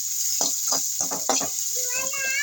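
Shallots and tomato sauté for liver fry in a pan, with a constant hiss of sizzling and soft stirring strokes, and a short voice near the end.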